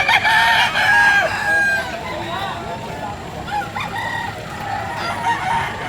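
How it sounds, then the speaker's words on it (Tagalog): Roosters crow loudly up close while chickens cluck and squawk around them at a chicken market in Bocaue, a busy flock sounding off without pause. "Ito yung mga manok na binibenta ni Kuya Sammy, guys."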